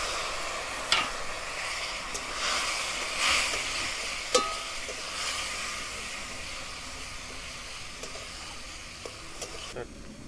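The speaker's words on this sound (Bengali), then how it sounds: "এতে আমি এখন কিছুটা মশলাগুলো প্রায় ভাজা হয়ে গেছে" Spices fry in a pan with a soft, steady sizzle and hiss, while occasional sharp scrapes and clicks of stirring break through; quiet and close, with no voices.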